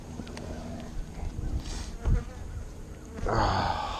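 Honey bees hum around an open hive during a queenless split in Texas, a close buzzing drone that swells and fades as individual bees pass near, with some handling noise and no talk.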